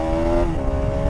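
A small-cc motorcycle revving hard toward 10,000 rpm while shifting gears on the road, a loud, steady high-pitched engine whine held close for the whole moment.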